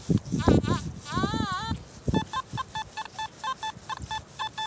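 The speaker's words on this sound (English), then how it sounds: "another one of the same kind of signals, but it sounds really good. It's got a little bit of chatter in the sound" A metal detector gives a target signal with some chatter: a run of short, choppy electronic beeps pulsing in a steady rhythm, preceded by brief vocal sounds and a warbling tone.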